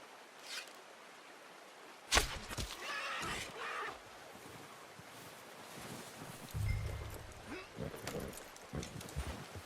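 A horse whinnies and snorts amid rustling and scattered clatter, with hoofbeats shifting about in a quiet outdoor setting in Red Dead Redemption 2.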